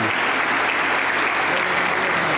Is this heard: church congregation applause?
yes